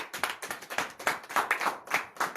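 A church congregation at a morning prayer service in Comè, Benin, claps in acclamation with quick, rhythmic, fairly close handclaps that rise and fall in bursts.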